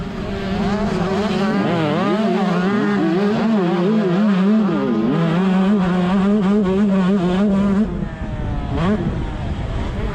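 Several 125cc motocross bikes racing at full throttle, loud two-stroke engines wailing and overlapping as they shift up and down through the gears, close by and continuous, with a quick drop in pitch near the end.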